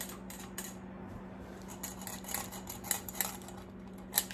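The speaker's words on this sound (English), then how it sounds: "Then we're just gonna go ahead and mix this." Homemade cocktail sauce with Worcestershire being stirred in a bowl, a spoon giving a string of light clinks and scrapes against the bowl, faint and close over a steady low hum.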